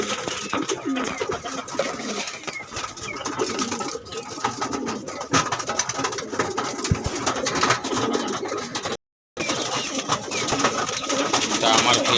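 Male pigeons from a flying loft crowding in at feeding time, a dense continuous bed of near cooing and wing flutter with mixed background noise and a voice faintly present beneath it.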